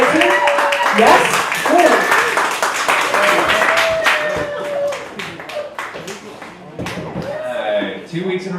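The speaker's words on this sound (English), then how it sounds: "Don't hold back those claps, y'all" An audience at a comedy night claps and applauds loudly in a dense, continuous burst that gradually thins, with voices shouting and talking over it.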